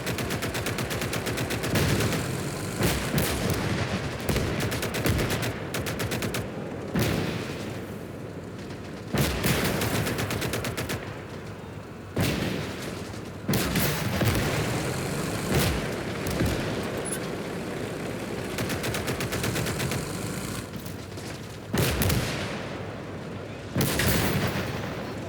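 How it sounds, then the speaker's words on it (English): Mortar shells and other artillery pound away in the WWII strategy game Call to Arms: Gates of Hell, firing during the Soviet campaign. Heavy booms and rolling gunfire come in repeated dense bursts, loud and continuous. "A lot of mortars."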